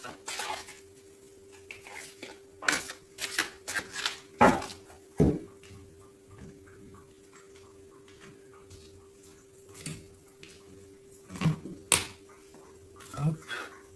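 A deck of tarot cards is cut and tapped together on a table, producing scattered sharp clicks and soft slaps, some in quick clusters, over a low steady hum.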